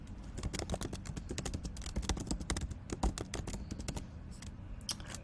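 Steady rapid typing on a computer keyboard, dense close clicks and key taps running continuously with small bursts, no voices.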